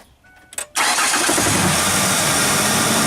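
A 2002 Ford Ranger engine, just fitted with a new alternator, cranks briefly and catches, then settles into a steady, loud, close idle with no one talking.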